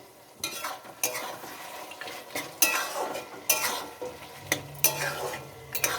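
Bottle gourd cooking in a pot is stirred in a series of separate scraping, clattering strokes roughly every second, close and clear over a soft sizzle, with a low steady hum entering near the end.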